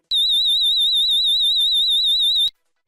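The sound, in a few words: alarm control unit siren sounding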